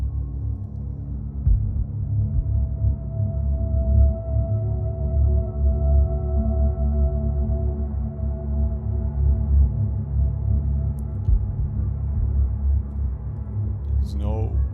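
Chords on a synth viola patch swell in a dense, low, sustained wash with a steady droning tone, fairly loud and continuous, with no voices.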